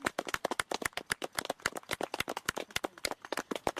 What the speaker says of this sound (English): join with me in a round of applause of welcoming them together